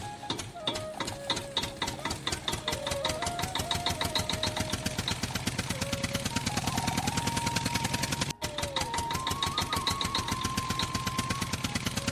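A toy tractor engine runs steadily for the whole stretch, giving a fast, even chugging rattle that is close and fairly loud, with a brief dropout near the end. Small whining tones drift over the chatter, and no one speaks.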